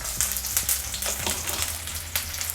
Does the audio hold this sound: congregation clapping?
no